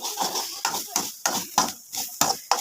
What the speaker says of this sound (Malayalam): ഇത് തേങ്ങായും കറിവേപ്പിലയും കൂടെ വറുക്കുന്നതാണ് കേട്ടോ